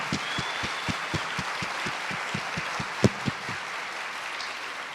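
Audience at a project presentation event claps in a sparse, regular rhythm of distinct handclaps over a steady background hiss, with one sharper clap near the end.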